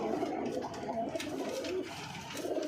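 Pigeons coo softly in a repeating, throaty rhythm, fairly close, over a low background hum.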